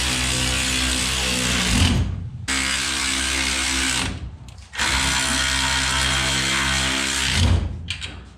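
A power tool tightens bolts and locking nuts on an aerospace brake kit bracket for a truck build: three loud, steady whirring runs, each cut off by a short pause.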